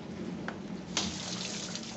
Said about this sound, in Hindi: अंदर मशीन जो है पानी अंदर घूम रहा है, ये देखिए पूरा स्प्रे आर्म घूम रहा था।